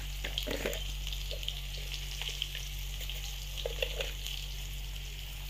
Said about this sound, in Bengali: তো বন্ধুরা, আলু ভাজা হচ্ছে।